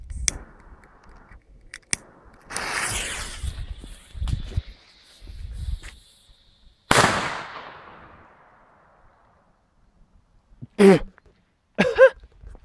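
Several sharp Comet firecracker bangs go off at irregular intervals, some close and loud with crackling tails, separated by quiet gaps.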